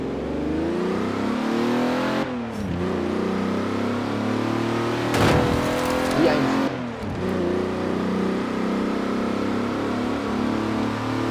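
A 1970s car's engine revs hard and steadily while driving in Forza Horizon 4, loud and close, with two brief drops in pitch as gears shift and a sharp burst of noise near the middle.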